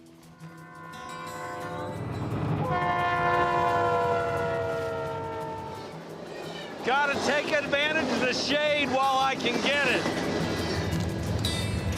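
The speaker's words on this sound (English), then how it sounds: "Wow, that is one long train." A train horn blares in long sustained tones, followed by the rumble and squealing screech of a long train rolling past nearby on the Arizona high desert plains, with a person talking briefly.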